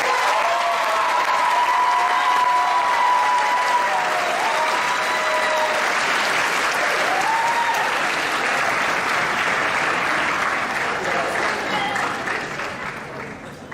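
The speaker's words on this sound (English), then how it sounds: "Please help me welcome with a warm round of applause our guest speaker for tonight, Coach Joel Preston." An audience at a high school graduation ceremony applauds steadily for over ten seconds. The dense, loud clapping slowly fades toward the end, and an amplified voice speaks faintly beneath it.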